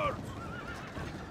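A horse whinnies in the video game Westeros Total War, a short, fairly faint neigh at the very start that quickly gives way to a busy battle ambience.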